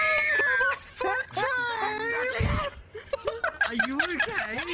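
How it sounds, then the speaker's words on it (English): A person screams and wails in shrill, wavering bursts, mixed with excited chatter, laughter and other voices talking over one another. "He's screaming."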